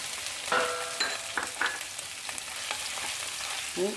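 Fennel seeds, ginger and garlic frying in a pan for a Kerala-style vegetable kurma, a steady close sizzle broken by a few clinks of stirring, with no speech.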